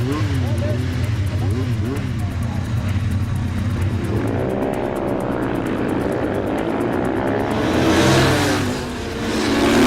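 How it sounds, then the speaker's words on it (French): A high-revving small scooter engine whines past on a racing circuit, pitch sweeping up and down as it races, with a voice talking over the noise. "Un scooter"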